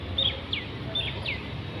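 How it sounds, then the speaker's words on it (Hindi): An Asian koel calls from trees around a gurdwara, four short high chirps repeating at a steady pace over soft outdoor ambience. "पेड़ों पे देखो कोयल की आवाज़ भी आ रही है।"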